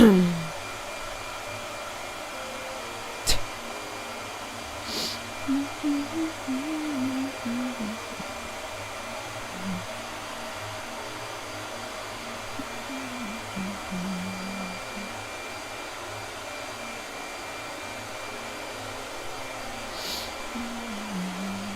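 Blow dryer running steadily in a room, a faint continuous airy whoosh with a few brief knocks and small sounds over it.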